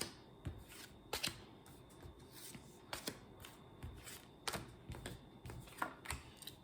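Tarot cards are shuffled and drawn for a five-card spread, giving faint, close riffling and crisp slapping snaps at irregular intervals against a quiet room.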